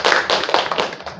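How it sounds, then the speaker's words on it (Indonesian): A small counseling group in a classroom claps hands together in a brief, close burst of rapid, uneven claps that trails off within about a second, with no talking. "terima kasih tepuk tangan kita semua"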